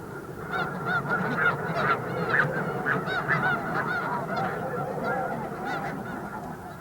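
A young goose honks repeatedly at a crowded nesting colony, with loud near calls overlapping other geese honking in the background.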